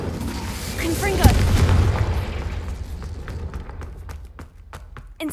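A Confringo blasting curse from Hogwarts Legacy erupts in a deep boom, followed by rumbling fire and scattered crackles and pops that fade over several seconds.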